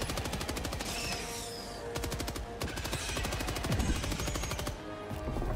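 Machine gun fire in Helldivers 2: rapid, evenly spaced bursts of automatic fire, loud and close, broken by short pauses.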